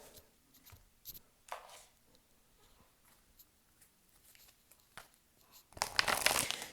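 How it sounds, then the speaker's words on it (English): Oracle cards being handled for a pick-a-card tarot-style reading: quiet intermittent shuffling and papery rustles, ending in a louder, sustained burst of card shuffling. "So I'm going to get some more oracle cards for you."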